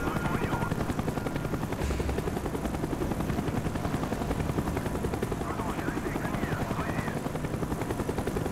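A helicopter hovers in the Call of Duty Black Ops campaign, its rotor making a continuous fast chopping thrum at steady loudness throughout, with faint game effects mixed in.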